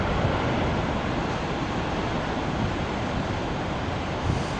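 Big ocean waves pound the shore at Cape Spear, Newfoundland, filling the air with a loud, continuous broadband roar of surf mixed with wind buffeting the microphone.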